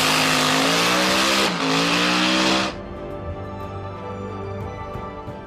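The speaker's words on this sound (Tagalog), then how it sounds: "ang legendary Boss Hoss, mga dambuhalang production motorsiklo na may V8 na makina" A Boss Hoss V8 production motorcycle engine revs hard and loud at close range, holding a high roar before dropping abruptly to a lower, rumbling idle.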